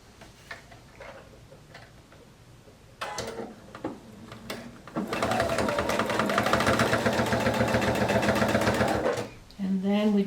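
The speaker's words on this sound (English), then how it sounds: "And then we just stitch down the edge again." A sewing machine stitches down the edge of a quilt binding, starting in short bursts and then running in a steady, loud, fast mechanical chatter for several seconds before stopping.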